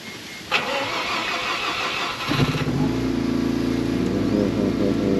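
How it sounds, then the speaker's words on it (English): A 1994 KBM engine cranks and catches outside a cafe and restaurant, a short starter burst followed by a steady, loud idle that settles into a continuous rumble. "the owner has kindly accepted our request of starting up the engine"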